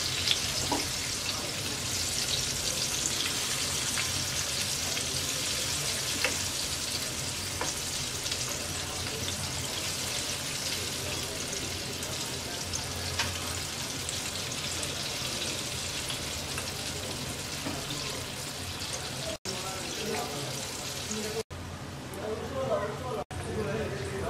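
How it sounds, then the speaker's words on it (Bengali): Cauliflower nuggets fry in hot oil with a loud, continuous sizzle, broken by scraping and clattering as the pieces are turned over near the end; a voice talks over the frying. "এক পিঠ ভাজা হয়ে গেছে, উল্টিয়ে দিচ্ছি।"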